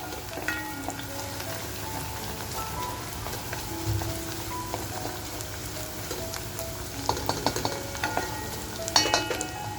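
Mutton masala frying in oil in a pan and being stirred, a steady close sizzle with scraping spoon strokes that grow busier and louder toward the end.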